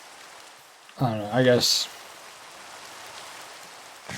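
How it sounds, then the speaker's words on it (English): Steady rain falls in a video game, a soft even hiss that continues after a short burst of talk near the start. "Let's get away from the rain."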